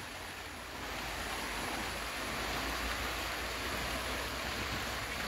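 The swift Saddang River rushes past in a steady, dense wash of flowing water, broad and continuous with no voices.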